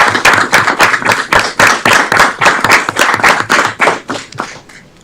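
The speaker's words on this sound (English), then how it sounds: "Let's give him a round of applause." A roomful of people at a committee meeting clap for a newly appointed alderman, loud, close, crisp handclaps in a steady burst that thins out and fades over the last second.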